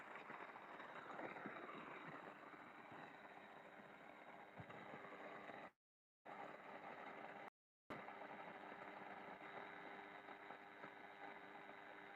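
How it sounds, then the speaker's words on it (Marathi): A steady mechanical drone of a running borewell water pump motor under a voltage problem, continuous and fairly loud, with a constant hum and no voices. "एकदम जबरदस्त सहा दहाचा पंप आहे मस्त चढवायला"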